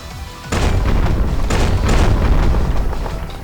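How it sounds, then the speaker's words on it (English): A grenade launcher blast in the Tokyo Afterschool Summoners game, a sudden loud boom after a short quiet lead-in, then a dense rumbling explosion that carries on with crackling bursts and fades only slightly toward the end. "Was that an actual grenade launcher, Yoritomo?"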